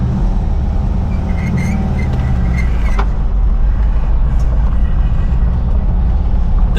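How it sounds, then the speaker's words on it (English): A 1978 VW Riviera camper with a 2000cc dual-carb engine and 4-speed runs steadily as it pulls away, a continuous low engine drone with a brief sharp mechanical click partway through. "It's a 2000cc dual carb Volkswagen engine, 4-speed."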